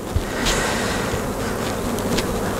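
Honeybees buzzing steadily around occupied beehives in an apiary, a continuous close drone with individual insects passing near, no voices.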